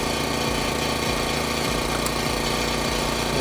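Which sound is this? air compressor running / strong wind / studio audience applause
air compressor running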